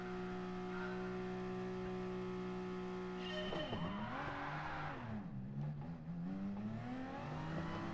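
Turbocharged race car engine in a racing game holding a steady drone, then revving hard with a swooping pitch as tires squeal, loud and close with no talk.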